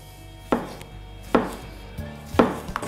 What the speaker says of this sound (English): So I'm going to cut a slice of the cheddar.